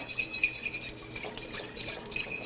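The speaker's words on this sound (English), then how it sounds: "Just give it a nice whisk." Lemon juice being whisked in a bowl, rapid rhythmic metallic clinks and scrapes of a whisk against the bowl, close and steady with no voices.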